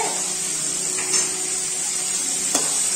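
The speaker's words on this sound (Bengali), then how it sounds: "এই যে চিংড়ি মাছটা ভাজা হচ্ছে" Prawns frying in a pan, a steady close hiss of sizzling oil with a couple of faint scraping stirs, no talking.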